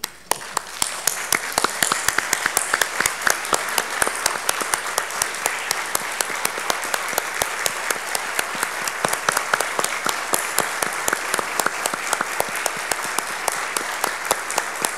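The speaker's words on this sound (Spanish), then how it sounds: "debemos terminar esta sesión dándole un aplauso de pie a Ann Póstuma, nuestra directora de Sinterfor" Standing ovation at the close of a conference session, honoring a director: sustained, dense applause from a large audience, steady and loud with sharp individual claps throughout, no talking over it.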